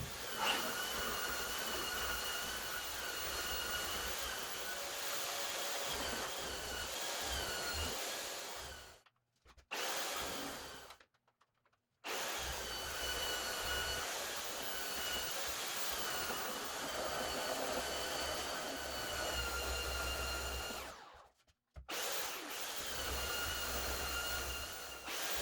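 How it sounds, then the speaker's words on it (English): A belt sander grinds wooden screw hole plugs smooth on the side of a homemade craps table. It drones loud and steady for long stretches, stopping briefly twice before starting up again. "I'll take a belt sander and I'll sand all these plugs smooth"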